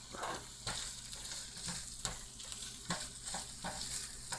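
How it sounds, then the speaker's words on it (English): Chicken sizzles and crackles steadily in a hot frying pan during a stir fry, with occasional sharper pops and utensil scrapes as it's stirred. "Oh, sizzle."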